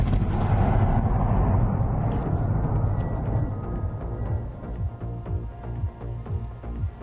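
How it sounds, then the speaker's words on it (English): A huge explosion during fighting near Kyiv in the early hours, a deep rolling rumble heard at a distance that swells and slowly fades into a low background roar. "A huge explosion in the early hours here as the fighting gets ever closer."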